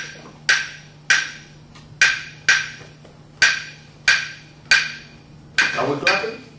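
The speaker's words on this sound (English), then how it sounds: "So I want to show you a basic clave, which we call clave de son, and I want you to learn it." A pair of wooden claves strikes the clave de son pattern, sharp bright clicks repeating in two measured groups of five with even spacing, alone and clear apart from a faint steady hum beneath.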